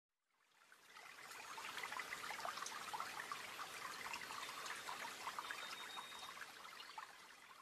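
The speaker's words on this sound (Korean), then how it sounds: "계속 가다 보니 예쁜 시냇물이 나왔어요." A small stream flows with a gentle, continuous trickle and babble that fades in from silence and stays soft and steady, with no other sounds.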